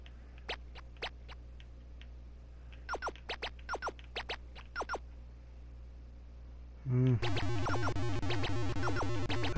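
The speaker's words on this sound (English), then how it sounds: "That's the noise of a helicopter." A Crazy Climber arcade video game plays a helicopter sound: sparse electronic clicks and blips give way to a loud, rapid, buzzing chop that repeats steadily near the end, with no talking.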